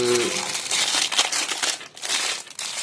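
Plastic wrapping around a boxed gear cube puzzle crinkles close up in continuous loud rustling bursts, with a brief voice at the very start.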